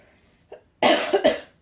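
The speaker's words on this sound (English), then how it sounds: "I was coughing some more." A close, sharp cough in two quick bursts after a brief small throat sound, loud against a quiet background.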